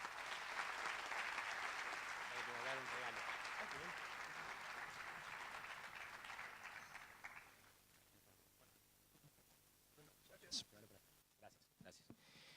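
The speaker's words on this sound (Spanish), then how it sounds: "otro aplauso por favor a Jorge" After a talk on education and technopolitics, an audience breaks into sustained applause that holds for several seconds, then dies away into a quiet room with a few scattered sounds.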